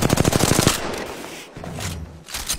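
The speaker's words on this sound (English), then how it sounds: "Opening fire on our prey." Rapid automatic gunfire in a battle royale video game, a dense burst of evenly spaced shots that stops abruptly and gives way to quieter game ambience and movement.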